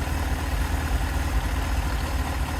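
Yamaha engine running steady during a charging-voltage check, a continuous low rumbling hum at an even idle with no voices.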